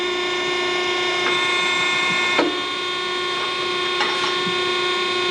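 ET 95 H tube bending machine cycling without tubing, a loud steady electric hum with sharp mechanical clacks and clicks as it moves, close and continuous.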